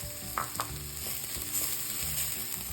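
Red chili flakes sautéing in oil over low heat, added after ginger and green chilies while cooking aloo gobi; a steady, soft sizzle with a couple of light utensil clicks near the start.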